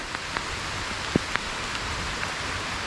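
Light, sparse rain patters steadily on leaves in a monsoon jungle, a soft even hiss broken by a few distinct drips close by.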